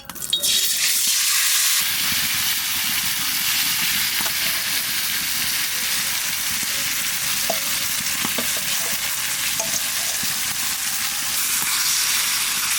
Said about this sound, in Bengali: কড়াইতে এখন আর কোনো তেল দেবো না, একবারে মাছটা ঢেলে দেবো